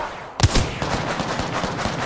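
Gunfire in the video game Apex Legends: a sharp loud shot followed by a rapid rattling burst of automatic fire, fairly close and continuous to the end.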